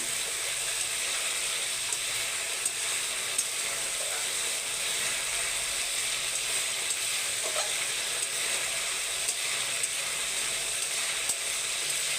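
Spice paste frying in oil in a pan for a Bengali fish curry, a steady close sizzle and crackle that runs unbroken throughout, with faint stirring scrapes and no talk.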